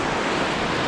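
Surf breaking steadily along a beach on Bribie Island, a continuous broad wash of churning water with wind mixed in, close and fairly loud, no voices.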